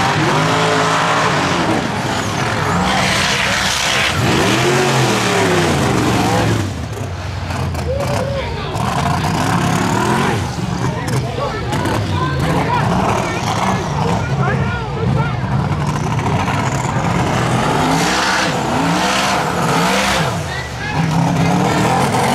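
Off-road mega trucks roar with heavy revving engines at a Memorial Day mud event, loud sustained throttle bursts with brief lulls, while people talk over it.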